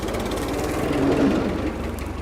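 A tractor engine labours steadily up a steep village hill track, a continuous low rumble with a rhythmic knocking pulse, close and loud throughout.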